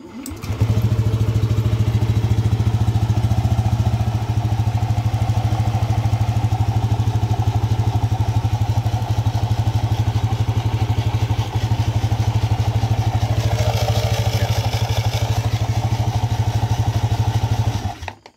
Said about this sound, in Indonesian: kita tinggal nyalakan untuk unit motornya teman-teman